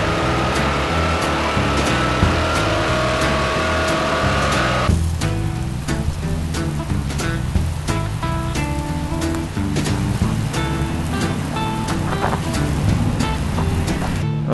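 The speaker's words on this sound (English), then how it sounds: "you just saw the watering process where we watered down the surface of all the pavers" Water sprays and splashes across a paver walkway surface, a loud, steady hiss like heavy rain with shifting intensity, close and continuous throughout.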